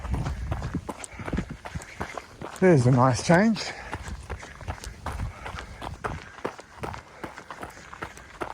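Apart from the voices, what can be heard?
running footsteps on a trail at night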